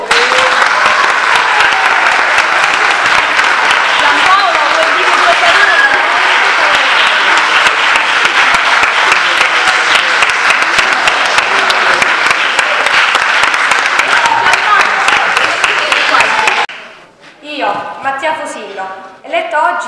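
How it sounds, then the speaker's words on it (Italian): An audience at a city council ceremony in Foggia for a newly elected junior mayor claps loudly and steadily for a long stretch, then the applause stops abruptly and a voice begins speaking. "Facciamo un applauso."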